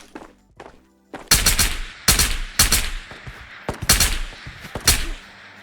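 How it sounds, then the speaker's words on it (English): Loud gunshots ring out in the VR shooter Ghosts of Tabor, a string of sharp, close single shots and short bursts at irregular intervals, each trailing off in echo. "Why are you shooting me, dude?"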